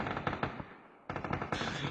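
Rapid bursts of automatic gunfire in a PUBG esports match, dense rattling volleys at moderate distance with a brief pause before the firing resumes.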